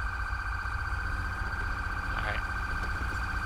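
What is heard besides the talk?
ambulance siren arriving in the video game GTA V LSPDFR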